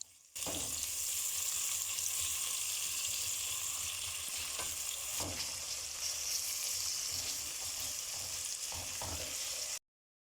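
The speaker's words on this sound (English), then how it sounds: "Stir and let fry until the onions are translucent." Onions fry in a pan, a loud, steady sizzle close by with occasional sharp scraping knocks as they are stirred, for a homemade bean stew, ending abruptly.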